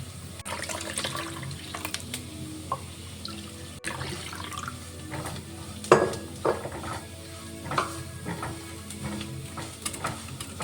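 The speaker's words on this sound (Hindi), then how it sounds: "अच्छे से मिक्स करने के बाद इसे हम और 2 कप पानी ऐड कर लेंगे।" Batter for Punjabi pakora kadhi is stirred with added water in a kitchen, giving a continuous wet sloshing and whisking sound close by, with occasional clinks against the bowl.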